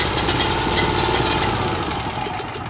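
A Champion LP dual fuel generator engine runs at a steady, loud, close idle, a continuous mechanical drone with faint rhythmic knocking that eases slightly toward the end.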